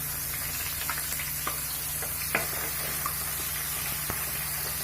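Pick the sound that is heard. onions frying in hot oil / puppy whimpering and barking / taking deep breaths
onions frying in hot oil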